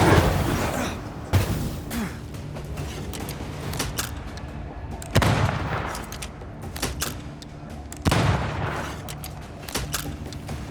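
Lantern rifle shots boom in Banishers: Ghosts of New Eden, three heavy blasts spaced a few seconds apart, each trailing into a long rumbling decay over ambient game sound.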